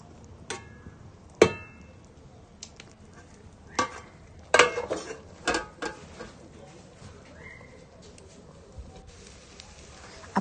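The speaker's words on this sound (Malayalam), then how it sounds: "ചേർത്ത് കൊടുത്തതിന് ശേഷം നന്നായിട്ട് ഇളക്കി മൂടി വെച്ച് അടച്ച് ഒരു 10 മിനിറ്റ് വേവിച്ചെടുക്കാം." Jackfruit seed thoran being stirred in a pan, sparse spatula scrapes and clacks over a faint low sizzle, with long quiet stretches between strokes and a voice at times.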